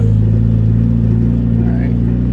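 Manual-transmission car engine pulling away as the clutch is released, a steady low rumble that builds gently in revs, close and continuous, with faint voices underneath.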